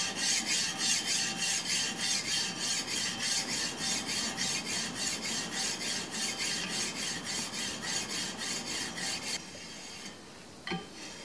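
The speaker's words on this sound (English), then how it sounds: "I start with a 150 grit sanding stone to remove the bulk of the scale" Steady rhythmic rasping of a 150 grit sanding stone scraping back and forth across a steel dagger blade to remove scale, repeated strokes for about nine seconds, then it stops with a faint clink.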